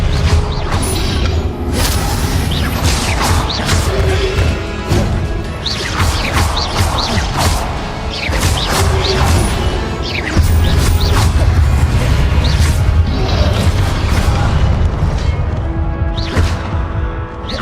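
Incendio and Expelliarmus spell blasts in Hogwarts Legacy: loud, dense bursts of crashing impacts and whooshes, one after another for the whole stretch, with no talk over them.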